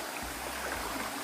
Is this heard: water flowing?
yes